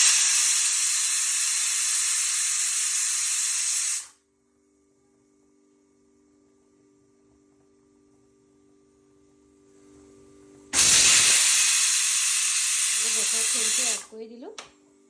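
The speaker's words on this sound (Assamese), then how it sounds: "এই পোলাও চিটি মাৰিছে।" A pressure cooker cooking pulao lets out two loud, sustained hissing steam releases separated by a quiet stretch, with a faint whistle tone underneath.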